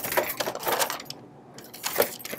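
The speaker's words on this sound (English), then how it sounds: "Open it up, put the paper in." Paper is loaded into a receipt printer at close range: a few short bursts of plastic clicks and paper rustle, a brief quiet gap, then more handling noise.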